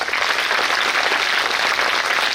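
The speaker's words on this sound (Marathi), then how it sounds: "पण एकदा जोरदार टाळ्या स्वतःकरता होऊन जाऊ द्या." A school audience of children at an annual gathering claps loudly and steadily, a dense continuous wash of applause from start to finish with no voices on top.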